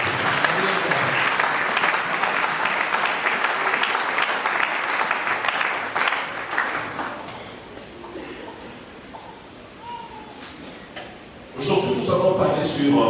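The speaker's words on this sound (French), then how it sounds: "Nous pouvons acclamer pour la parole." A church congregation breaks into loud, sustained clapping that thins out and fades, then swells again near the end, with voices mixed in.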